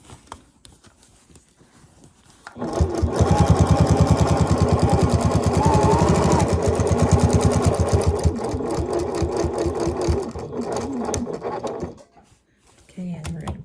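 A domestic sewing machine machine-binds a quilt, running steadily in a loud, close, rapid stitching burst for about nine seconds after a quiet start, then stopping briefly before starting again.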